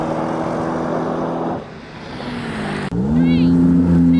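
A BMW with the competition pack revs hard at a drag race launch, steady engine drone that dips, then surges back louder with a rising tone, while a voice talks over it.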